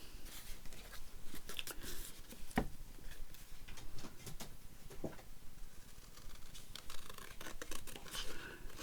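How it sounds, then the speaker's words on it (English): Scissors cut out paper pieces for handmade ephemera, a close, busy run of crisp snips and rustling paper with irregular sharp clicks throughout. "Let's cut these out then."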